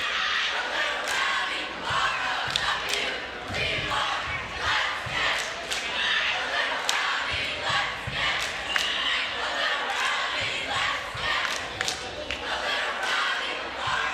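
A crowd of students at a Barstow School boys basketball game against St. Pius X, a loud continuous roar of chanting and yelling with sharp bursts and claps, close and sustained, with some talking mixed in.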